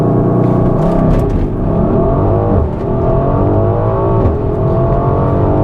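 A Mercedes-AMG GLC 63S engine roars loudly and continuously during a race-start launch, its revs climbing and holding with a dense, strained tone close up and no talking.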